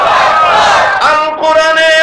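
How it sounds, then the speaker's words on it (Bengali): A crowd at a Bangla religious sermon gathering chants Nara-e-Takbir together, many voices raised in one loud, sustained, tonal shout that swells and falls within a couple of seconds. "একসাথে সকলে মিলে বলেন নারে তাকবীর"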